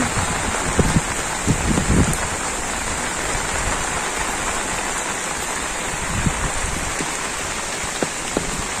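Heavy rain pours down steadily, a dense, close hiss of water on surfaces with a few sharper drips and knocks scattered through it.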